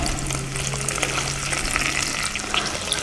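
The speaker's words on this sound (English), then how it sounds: "we're going to add a tablespoon of butter. We're going to melt that down" A tablespoon of butter melts in rendered bacon fat in a pot, giving a steady, close, even sizzle and crackle that carries on without a break and with no voices.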